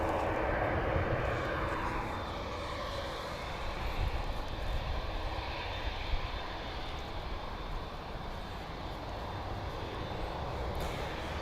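A Boeing 787 Dreamliner's jet engines roar steadily at a distance, a broad continuous rumble and hiss with no speech.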